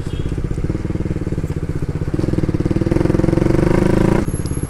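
A motorcycle engine drones steadily and close while riding through traffic, the weight carried toward the front. The low throbbing rumble swells slightly and then cuts off abruptly near the end.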